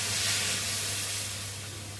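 Hot spiced soybean curry hisses and sizzles loudly as water is poured into the pan, a broad steady fizz that eases slightly toward the end, with no talking.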